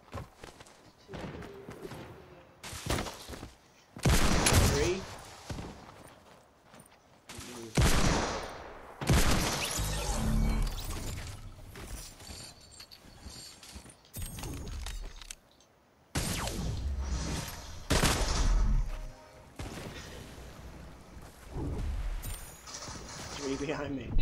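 Gunfire in Fortnite during a tournament match comes in bursts of rapid shots and thuds, loud and scattered across the clip with silent gaps between volleys.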